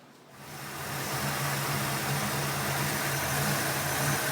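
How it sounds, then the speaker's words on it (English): A Ford SVT Mustang Cobra engine idles with a surging rumble, starting up then holding a loud, close, continuous running note. "So here comes the engine surging"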